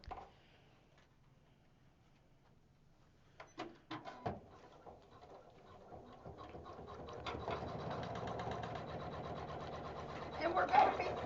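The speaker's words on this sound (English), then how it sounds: "now it's going to do the final stitch outline" An embroidery machine stitching a final outline on a tooth fairy pillow starts after a few clicks and then runs with a steady, rapid mechanical chatter that grows louder toward the end.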